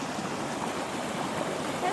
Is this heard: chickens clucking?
no